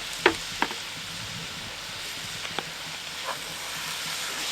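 A frying mix stirred in a pan over the heat: a steady soft sizzle and hiss throughout, broken by a few sharp spoon-on-pan clinks and scrapes early on, with no talking.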